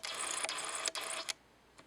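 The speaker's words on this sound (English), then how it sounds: "I'm going to make you hear the autofocus." A camera autofocus motor whirs in short bursts, a continuous buzzy mechanical whine broken by brief stops and clicks, close and fairly quiet, with no talking.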